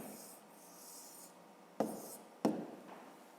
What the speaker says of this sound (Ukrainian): Записуємо розв'язання.